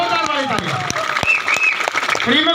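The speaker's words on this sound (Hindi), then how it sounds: "जोरदार वाली तालियां" Applause from an audience at a business venue closing event in Tatanagar, a steady wash of clapping heard alongside a voice speaking over it for the whole stretch.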